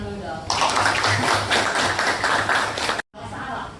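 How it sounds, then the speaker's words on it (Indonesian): A classroom of students clapping their hands during a chemistry lesson, a loud burst of rapid mixed claps close by that stops abruptly, with voices underneath. "Tepuk tangan dulu dong"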